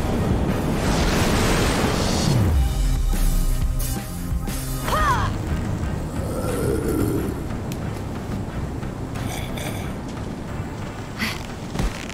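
A very big waterfall rushes in a steady, loud roar in the game Minecraft: Story Mode, with a few faint game effects over the continuous water noise.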